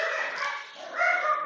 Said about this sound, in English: My dogs are going crazy in the background right now.